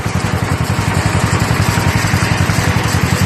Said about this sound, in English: Good little tractor, cranks,